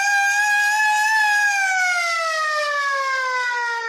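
A loud wailing siren holds a rising pitch, then slowly slides downward, sustained and alone with no talking.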